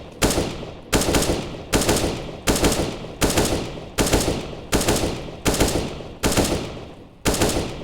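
Gunfire in the video game CS:GO, a steady series of about ten loud, evenly spaced single shots, each with a short ringing decay, with no talk over them.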